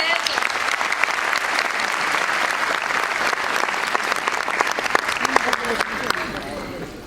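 Applause from a school audience of students and staff after a class presentation at a Little Millennium preschool, a dense, sustained clapping that fills the room steadily for several seconds and tapers slightly at the end.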